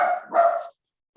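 A dog gives two quick, close barks, the second slightly longer, followed by silence.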